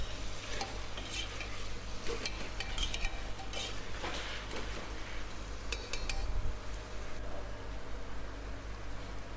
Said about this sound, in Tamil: கொஞ்சமாக வந்து நம்ம உப்பு சேர்த்துட்டு லைட்டாக வதக்கி விட்டுடலாம்.